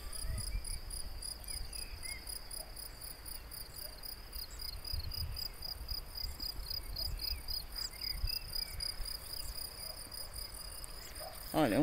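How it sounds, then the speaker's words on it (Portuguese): A dense, steady chorus of crickets trills continuously at a distance in an olive grove in Portugal, high and shimmering, over a faint low rumble outdoors. "Olha a quantidade de grilo cantando."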